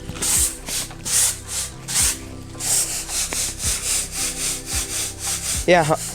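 Grandmother cleaning mustard seeds by hand, a rhythmic series of rough rubbing, shaking swishes repeating about twice a second, close and loud, with a brief voice near the end.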